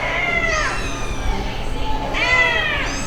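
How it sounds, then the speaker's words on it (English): Kittens of all sizes meow at an animal shelter, with several high, drawn-out cries rising and falling over a steady background murmur of the room. "they have a lot of kittens here"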